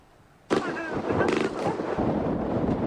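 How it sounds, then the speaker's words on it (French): Heavy gunfire in the desert of Niger near the Malian border, a sharp onset followed by a dense, continuous crackle of shots and bursts that stays loud and sustained throughout. "Des tirs nourris dans le désert en territoire nigérien, non loin de la frontière avec le Mali."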